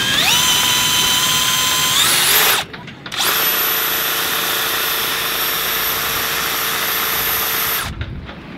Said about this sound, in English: the drill has to go in reverse for the blades to cut